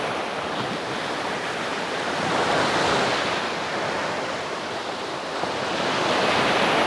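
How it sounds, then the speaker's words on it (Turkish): Continuous roar of Aegean Sea waves breaking on Davutlar beach in Turkey, rising and falling gently in a wide hiss of surf, with faint wind noise. "Biraz dinleyin dalgaların sesini."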